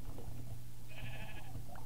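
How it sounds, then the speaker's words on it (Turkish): A pink sheep in the Minecraft video game bleats once, a drawn-out wavering cry of moderate loudness, heard over a steady low game hum with no talking. "Aa, pembe koyun ne?"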